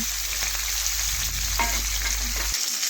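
Small charapona fish fry in a pan of hot oil with a loud, continuous close sizzle and crackle that cuts off near the end.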